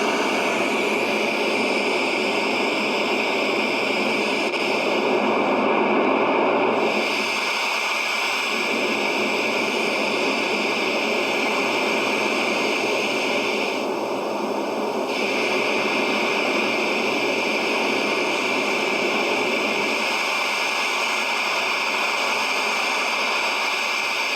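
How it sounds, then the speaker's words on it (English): Steady, loud pink noise played through a bass guitar preamp pedal's tone stack while the control is swept, a continuous hiss whose tone shifts gradually over about twenty-four seconds. "That'll give us an idea of how this affects the pink noise when we try and sweep it."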